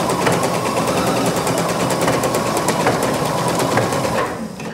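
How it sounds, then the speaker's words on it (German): A sewing machine stitches a dress seam with stretch thread, a steady rapid mechanical whirring with fine rhythmic clatter, loud and close, running continuously before easing off at the end. "rechts auf rechts zusammennähen"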